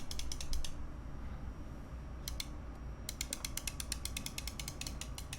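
An ergonomic right-handed mouse with a textured, ribbed grip clicks in quick, crisp bursts, a short run early, a brief pair mid-way, then a long steady series of sharp clicks, close and quiet with no talking.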